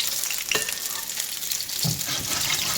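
Jamaican saltfish fritters frying slowly in hot oil, giving a steady close crackling sizzle with a few brief pops and no talking.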